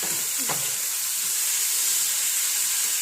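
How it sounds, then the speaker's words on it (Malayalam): An ivy gourd stir-fry steams and sizzles in a pan, with a continuous close hiss and a brief low scrape at the start. "ഇത് നല്ലപോലെ ആവി വന്നു കഴിഞ്ഞിട്ടാണ് തീ കുറച്ചേക്കായി"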